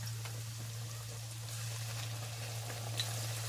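Pork chops fry in hot oil in a pan, giving a steady, even sizzle over a low constant hum, with no talking.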